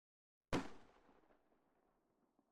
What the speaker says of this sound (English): Is that a gunshot?